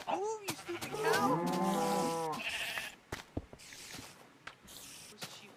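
A sheep in a survival island video game lets out a loud, drawn-out bleat, followed by quieter scattered clicks and thumps of game activity.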